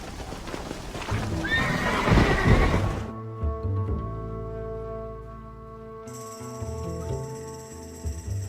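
Horses neighing and galloping in Red Dead Redemption, with a loud, close whinny over rapid hoof clip-clops, followed by a quieter stretch of game music.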